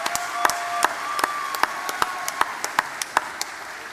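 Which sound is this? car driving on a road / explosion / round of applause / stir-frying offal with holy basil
round of applause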